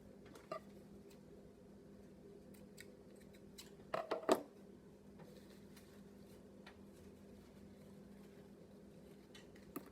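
Old fabric scissors snip in a quick cluster of crisp cuts amid quiet room tone, with a few faint clicks before and after.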